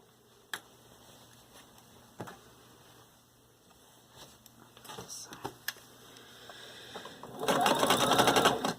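A sewing machine runs a side seam on a garment, starting with scattered clicks and taps from handling, then breaking into a short, loud burst of fast stitching at the end.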